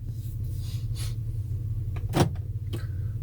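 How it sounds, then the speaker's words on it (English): A 2018 Honda's door locks unlock with a brief mechanical clunk and rattle, heard close by over the steady low hum of the idling engine. "I'm going to unlock it, the door."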